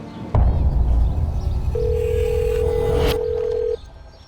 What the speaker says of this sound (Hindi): अब देखो रिंग जा रही, फोन ही नहीं उठा रहा।